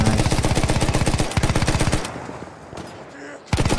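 Rapid machine gun fire in Battlefield 1 rattles in a fast, loud, even burst for about two seconds, stops, then a single shot follows, and a short burst resumes at the end.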